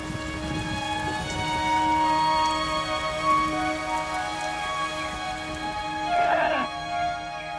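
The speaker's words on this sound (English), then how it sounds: "the rainy season descends on Copan" Steady rain falls during the rainy season at Copan, a dense continuous patter on surfaces, fairly loud and close, with other faint ambient sounds mixed in.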